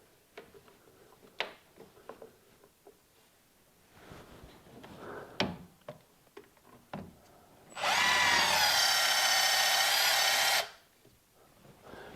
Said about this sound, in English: We're going to drill that until the studs start coming out the other side